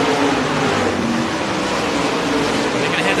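Race cars roaring on a short track during a late-race caution as one car slows off the pace, a steady loud wash of engine noise with a distant crowd-like rumble and no speech.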